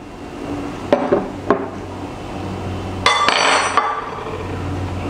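Small cubes of pineapple are tipped into a bowl, giving a few sharp clinks and knocks of spoon and bowl and a brief rattling slide of pieces, close and fairly loud, with no talking.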